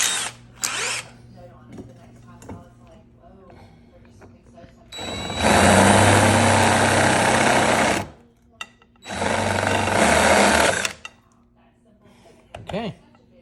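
Power drill with a changed bit boring into an ostrich egg shell, loud grinding whines in two long bursts of about three and two seconds, with shorter drill blips and brief speech between them.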